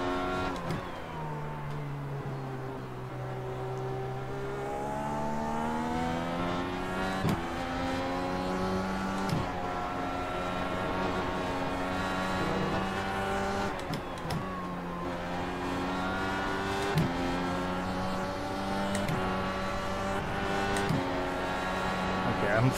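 Dallara DW12 IndyCar in the iRacing game at Watkins Glen whines at high revs, pitch rising and dropping sharply through repeated gear shifts and braking, with talking over the engine throughout.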